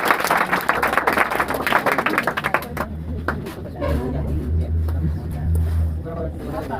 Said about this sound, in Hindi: चलिए तो उनके लिए भी जोरदार ताली।